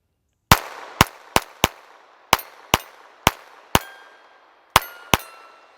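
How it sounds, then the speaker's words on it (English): Unsuppressed Ruger LCP II .22LR pistol firing standard velocity ammunition outdoors, ten sharp, loud cracks in an uneven string with short pauses, each snapping off quickly with a brief ringing tail. "I'm gonna be shooting some standard velocity ammunition once again"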